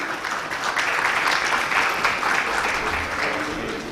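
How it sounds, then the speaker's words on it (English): A large summit audience applauds in a hall, full and sustained clapping that stays loud and even throughout with no talking over it. "a big round of applause"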